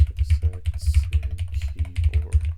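Rapid clattery keystrokes on a Hall Effect keyboard, fast overlapping taps with a low thock under each press, close and fairly loud, no voices.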